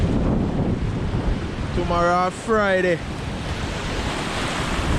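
Strong, gusting wind and rough sea waves at a coast near a river mouth make a constant heavy roar with rumbling surf. Someone briefly speaks in the middle.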